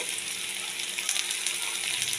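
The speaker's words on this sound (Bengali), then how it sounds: "কড়াইতে তেল দিলাম, তেলটা গরম হয়েছে, এবার আমি দিয়ে দিচ্ছি পেঁয়াজের কুচি।" Chopped onions frying in a little hot oil in a wok, a steady dense sizzle with bright crackling spatters, close and loud throughout, no voices.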